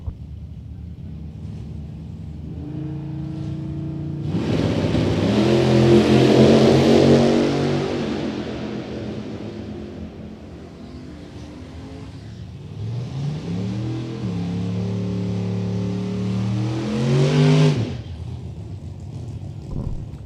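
A Chevrolet Camaro and a G-body drag race car launch at a drag strip: two loud engine runs, each a roaring rev that climbs in pitch through gear changes, the second after a brief lull, close with wind buffeting.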